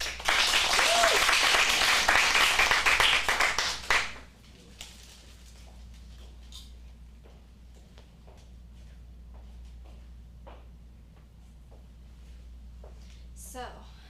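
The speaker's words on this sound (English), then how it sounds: "Let's get a round of applause." A small audience at an adult acting studio script showcase bursts into a loud round of applause for about four seconds, then it fades out, leaving quiet room noise with a few faint taps and a brief rustle near the end.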